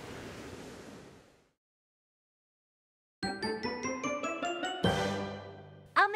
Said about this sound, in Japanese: 風ザーザー